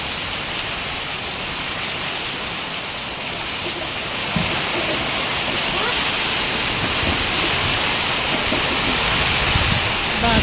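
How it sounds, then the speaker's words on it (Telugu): Heavy rain with gusting wind pours steadily and loudly close by, a dense constant wash of water that swells slightly in the second half, with no talk. "గాలి వాన"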